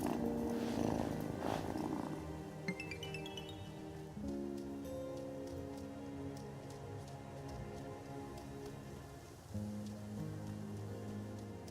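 Steady purring from a cat in the witch-themed video game Wylde, a continuous low rumble heard close, with soft chiming game music and faint tinkling layered over it.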